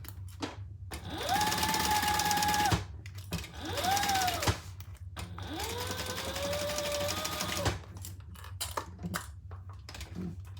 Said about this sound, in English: And sew those together.